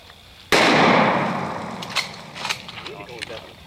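A sawed-off shotgun fires a single loud, close blast at a pumpkin outdoors, the sharp report decaying over a second or so before voices and scattered noises follow.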